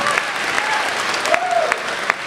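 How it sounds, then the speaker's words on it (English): Audience at a hackathon opening ceremony applauding first-time attendees, with dense clapping from a large room and a few faint whoops over it in a short burst. "can we have a round of applause for them?"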